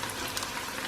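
Chicken masala fries in a pan while being stirred, giving a dense, even sizzle that stays fairly faint and continuous, with no voices over it.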